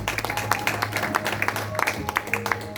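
A church congregation claps hands in praise with a fast, uneven, continuous patter of many hands and some voices mixed in, lively and close.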